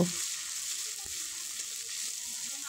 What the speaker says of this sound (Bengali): তেল গরম হয়ে গেলে ফোড়নে দিয়ে দেব গোটা জিরে আর কোচানো পেঁয়াজ। পেঁয়াজ আমি লাল লাল করে ভেজে নেব।